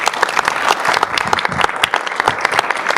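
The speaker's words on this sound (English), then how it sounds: "Let's give him a round of applause." Audience applause at a talk on the price of postsecondary education, brisk and fairly close clapping from a room of people, with distinct hand claps throughout the few seconds.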